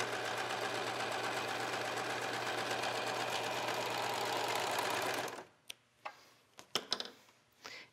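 A sewing machine stitches across a leggings leg with a steady, fast whirring rattle for about five seconds, then stops. A few sharp clicks and handling knocks follow in the quiet.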